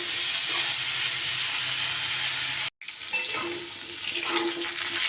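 Potatoes and pointed gourd fry in a pan with a steady broadband sizzle while being stirred, with a brief break in the middle before the frying noise resumes, loud and close.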